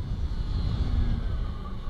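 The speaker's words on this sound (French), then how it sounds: "le bruit qu'on entend, à mon avis, c'est la régénération de batterie au freinage" Zero SR electric motorcycle regenerating its battery while braking: a steady low whine and hum under road and wind rumble, continuous and close.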